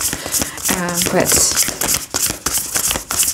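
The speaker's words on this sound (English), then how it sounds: "I'm incapable of shuffling them" Very chunky, thick playing cards are riffled and clapped together in clumsy bursts of papery flicks and taps while a person talks over them.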